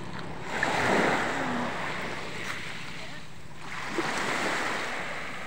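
Sea waves roll and break near the shore in two broad rushing surges, with a softer wash between them and light wind noise throughout.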